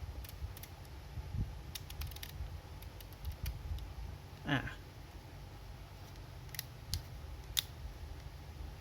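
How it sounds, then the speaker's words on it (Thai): A Canon camera lens aperture ring is turned by hand, giving a scattered run of small, crisp clicks and faint mechanical scratches, close up and quiet. "ดูรับแสงหมุนทุกคลิกนะครับ"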